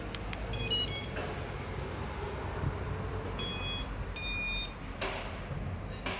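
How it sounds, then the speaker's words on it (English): A short saver on an FPV drone build gives off clear electronic beeps when the battery is connected, in three brief bursts of high tones over a quiet background. "that beep basically means that we're all good to go"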